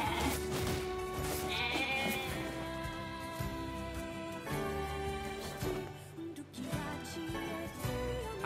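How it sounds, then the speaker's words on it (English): Sheep bleat repeatedly in the video game NieR Replicant, their calls mixed with cheerful game music and sound effects, moderately loud and close. "Man, those sheep really put up a fight."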